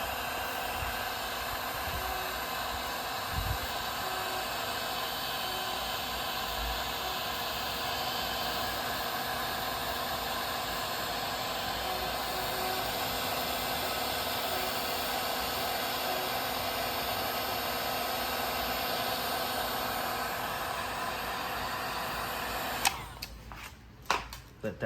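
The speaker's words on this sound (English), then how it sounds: "I'm gonna go ahead and warm up my heat gun again." A heat gun blows hot air in a steady, even hiss and whir while fitting an LED front emblem on a Hyundai Ioniq 5, then cuts off near the end with a few clicks and handling knocks.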